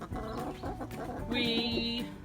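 Backyard chickens cluck in a garden, a busy overlapping chatter of several birds with one longer drawn-out call standing out near the end, close and fairly loud.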